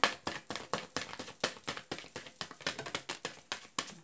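Tarot cards are shuffled with rapid, crisp riffling and flicking, a steady run of sharp papery slaps and taps repeating about every quarter second, close and fairly loud.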